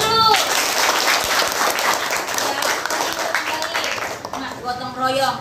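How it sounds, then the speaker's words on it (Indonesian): Schoolchildren clap together in a classroom at an Indonesian state elementary school in Asahan, North Sumatra: a dense, lively burst of applause that fills the clip, with a voice coming in near the end. "Ya, tepuk tangan dulu."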